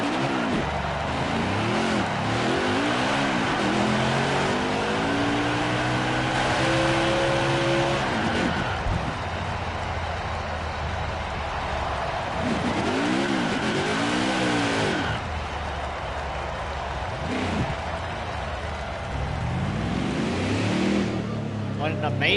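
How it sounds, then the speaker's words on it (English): A NASCAR Truck Series truck does a victory burnout at Atlanta Motor Speedway, its engine revving loud and sustained with rising and falling pitch sweeps and tire roar, while a commentator talks over it. "That 5 is burning that truck down."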